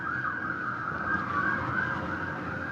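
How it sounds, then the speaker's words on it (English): An ambulance siren wails continuously as it passes, its steady rising and falling tone fairly loud and alone, with no talking. "It's an ambulance passing."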